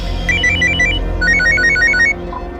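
A telephone rings in a dramatized crime scene, a loud electronic ringtone of rapid warbling bursts in two quick trains before cutting off, over a low background hum.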